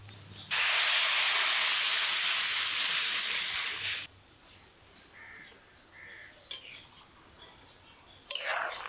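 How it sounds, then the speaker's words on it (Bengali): Milk poured onto ghee-fried rice for payesh sets off a loud, steady hissing sizzle for about three and a half seconds, then settles into quieter bubbling with a few faint clinks. "এখন এই দুধ ওই চালের উপরে দিয়ে দিব"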